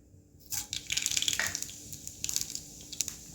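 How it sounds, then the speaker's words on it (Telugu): Mustard seeds hit hot oil in a pan for a gourd and tomato curry, setting off a burst of crackling, sputtering pops that flare up, ease, then return in quieter spits. "ఆవాలు వేద్దాం."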